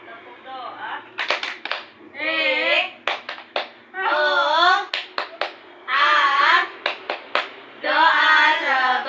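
Young children in an Indonesian classroom chant in unison before a meal, punctuating each sung phrase with bursts of sharp, rhythmic group claps in the tepuk doa prayer-clap routine, alternating chant and clapping several times.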